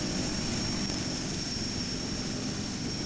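A DHC-6 Twin Otter propeller aircraft drones steadily in a GeoFS flight simulator game on approach, a continuous even engine and propeller hum with a faint high whine, moderately quiet throughout.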